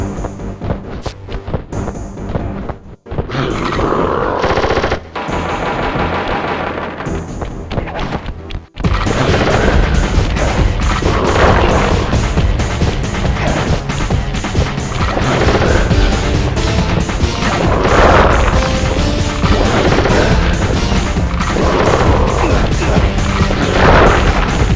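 Gunfire, heavy crashes and booming impacts from the video game Sly Cooper (Sly 1 in The Sly Collection), a loud, dense barrage that thins briefly early on, then runs continuously at full volume.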